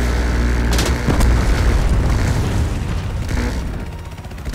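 Rocket explosion in Call of Duty Black Ops Cold War: a heavy, booming blast with a rumbling low-end tail that stays loud for several seconds before fading, with no speech over it.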